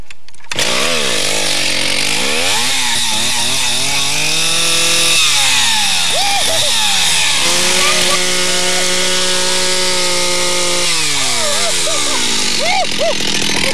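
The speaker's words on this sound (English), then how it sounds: "Get your chainsaw going." A chainsaw revs and idles in repeated cycles, its pitch sweeping up and down as the throttle is worked, loud and close; voices talk faintly beneath the engine noise at times.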